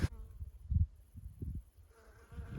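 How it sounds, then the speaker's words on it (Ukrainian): A soft buzzing of honeybees around late-blooming flowers drifts in and out, faint and low, with a few brief louder passes. "Ось там бджілки літають."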